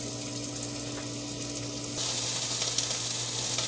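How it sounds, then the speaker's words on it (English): Diced potatoes fry in a pan of hot oil for a breakfast burrito, a steady close sizzle that runs the whole time with light clinks of stirring and no talk. "I'm making sure that the oil is nice and hot for the potatoes, which are now diced"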